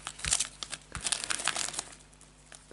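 Plastic packaging is cut open with scissors while unboxing a Kyosho Ferrari 456M GT 1/64 model car kit, giving close crinkling and crackling bursts with a couple of sharp snips, then tapering off quietly, with no talk.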